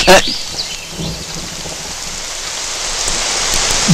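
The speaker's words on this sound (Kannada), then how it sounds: "ಜೋರ್ ಮಳೆ ಉಯ್ತಾ ಉಂಟು, ಥಂಡಿ ಚಳಿ" Heavy rain pours steadily with a loud thunder crack at the start, the downpour continuing close and dense throughout.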